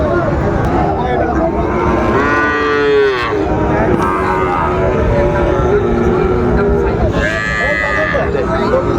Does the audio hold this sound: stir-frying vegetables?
no